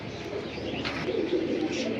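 Large pigeons in a collection coo briefly amid a dense hiss of background noise in a short, steady stretch.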